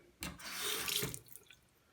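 Tap water gushes briefly into a sink for about a second, a close, hissing splash that tapers off, used for cleaning a Game Boy Advance cartridge.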